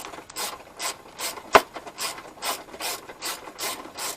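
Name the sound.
ratchet with 10mm socket on a Scion tC strut bolt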